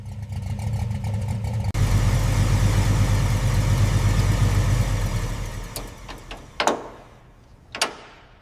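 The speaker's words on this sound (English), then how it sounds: "Exhaust pulses are running clean." An abandoned, roughly 50-year-old Ford Mustang engine idles with a steady low rumble that fades after several seconds, followed by a couple of sharp clunks.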